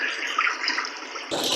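A pump pushes water into a rain barrel beside a newly installed rain gutter, giving a steady rushing, bubbling flow that surges louder near the end.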